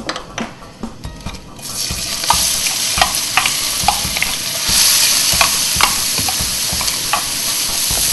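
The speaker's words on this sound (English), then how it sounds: "Oh, we're going to put the onions in." Onions drop into hot oil infused with cinnamon for a chicken curry, a sudden loud sizzle that keeps crackling, with clinks of a spoon stirring in the pan and no talk.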